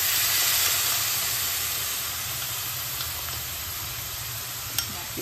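Grated coconut sautéing in a pan with green chillies: a constant, fairly loud hiss and sizzle with a low rumble underneath, slowly easing off, plus a couple of faint scraping taps near the end.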